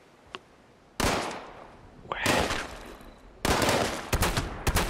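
Gunfire in the Fallout 76 video game, with a faint early pop and then three loud bursts of rapid shots, the last a fast cluster of sharp cracks, alone without talk.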